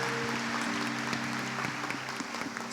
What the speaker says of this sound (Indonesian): tepuk tangan dulu untuk Tuhan Yesus yang luar biasa